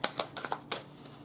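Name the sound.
shuffling and pulling Visionary I-Ching cards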